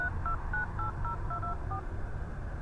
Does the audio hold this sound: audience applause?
no